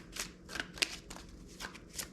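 Tarot cards are riffled and shuffled in several quick bursts, crisp papery flutters close up with brief pauses between, no talking.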